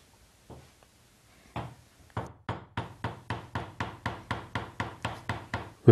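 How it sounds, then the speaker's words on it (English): A chisel squares up a mortise in a workbench frame by hand, struck in a steady series of about a dozen sharp mallet knocks that grow louder and more regular, close up and with no talking. "square up the mortises by hand using a chisel"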